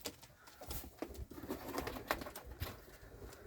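Young yellow Czech pigeons coo in a new dovecote, soft repeated throaty calls close by, mixed with light shuffling and wing movement.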